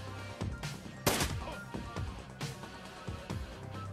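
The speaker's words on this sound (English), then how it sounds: "Take the pistol shot." Pistol shots in the video game Shadowrun Returns, several sharp gunfire bursts at irregular intervals, one especially loud crack near the start, with echoing tails.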